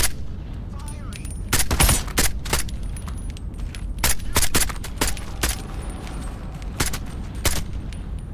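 Gunfire in the VR shooter game Into the Radius 2: a string of sharp, loud shots in irregular bursts, some close together and some spaced apart, over a low ambient rumble.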